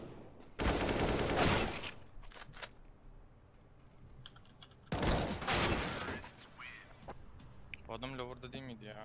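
Two long bursts of rapid automatic gunfire in a video game shootout, loud and close, separated by quieter stretches of keyboard typing and clicking, with a player's voice talking near the end.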